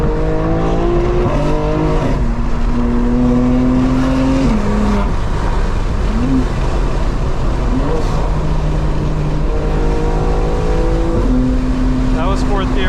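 A 900 hp 2025 BMW M4 Competition xDrive pulls hard in fourth gear, its engine note climbing steadily and loud from inside the car, with gear-shift dips and a voice talking over it.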